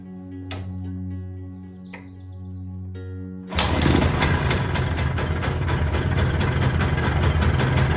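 After some faint engine hum and birdsong, the overhauled two-stroke engine of an MZ ES 150 motorcycle suddenly catches and runs steadily with a buzzy, rapid idle, loud and close.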